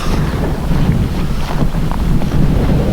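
Wind buffets the microphone on a hike above the ruins of a ghost town, a loud, constant rumbling roar that fills the whole stretch with no talking.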